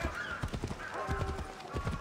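Horse hooves and a neigh in the Assassin's Creed Odyssey video game, with a clip-clop rhythm of hoofbeats running throughout and a whinny rising over them, at moderate level.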